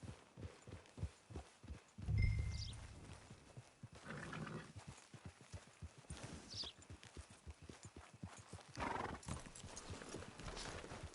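A horse clip-clops steadily in a video game, close rhythmic hoofbeats running through the whole clip, with a brief snort or whinny early on and faint game sounds behind, no talking.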